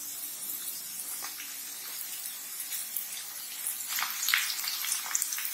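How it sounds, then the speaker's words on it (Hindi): Potatoes and blanched cauliflower fry in a pan, giving a steady soft sizzle that crackles and briefly grows louder near the end, with no talking. "अब ये गोभी जो हमने ब्लांच करके रखा है इसे भी हम इसमें ऐड कर देंगे और इसे भी गोल्डन ब्राउन होने तक हम भून लेंगे"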